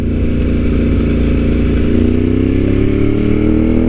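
A Ducati 748R motorcycle engine drones loud and steady while riding, its pitch climbing smoothly as the bike accelerates to overtake.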